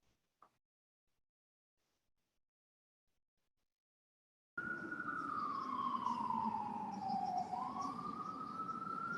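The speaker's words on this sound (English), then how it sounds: "Sirens in the background? Sorry about that." A loud emergency siren wails steadily from about the midpoint on, its pitch sweeping down and back up, heard distantly through a remote video call after several seconds of near silence.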